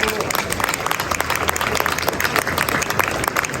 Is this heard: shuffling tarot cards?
no